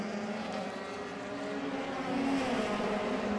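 A Euroformula Open single-seater at Jerez de la Frontera powers out of the hairpin during qualifying, a steady engine drone that swells slightly louder toward the end, heard at a distance with no voices.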